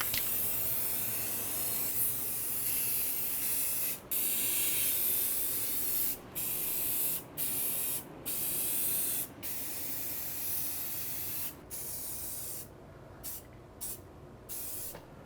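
Old baseboard heaters getting a fresh coat from an aerosol spray paint can, with primer already applied: steady close hissing bursts of spray, broken by short pauses between passes.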